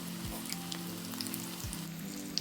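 Small balls of dough dropped into hot oil over a high flame fry with a steady, close crackling sizzle, a continuous hiss with tiny pops throughout.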